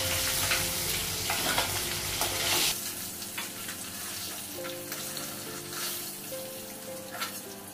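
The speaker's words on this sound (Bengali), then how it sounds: "মাছটা ভাজা হয়ে গেছে," Silver carp fish frying in a pan with oil produces a lively crackling sizzle with scattered stirring scrapes, loud at first, then settling a little lower while the spitting oil carries on.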